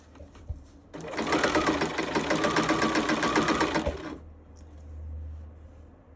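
A sewing machine stitches a blazer side front panel down past a pocket flap and dart, a close, steady rapid whirring run of about three seconds between quieter pauses.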